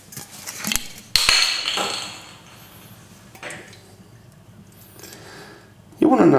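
Metal frying pan clanks and knocks against a stove, a few sharp bangs followed by quieter scraping and shuffling, then another clatter at the end.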